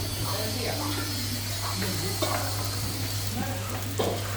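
Ginger, garlic, green chilies and black pepper fry in oil for green-pepper mussels, a dense close sizzle with repeated scraping stirs, a low electrical hum underneath and a voice speaking over it.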